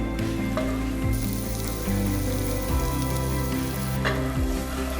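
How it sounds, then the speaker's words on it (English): Seasoned cauliflower rice, with black pepper and salt, sautés in a hot pan, giving a steady, loud, close sizzle and frying crackle throughout, with faint stirring scrapes and no talking. "I'm sauteing it, let's say for about a minute, 2 minutes, until it softens up"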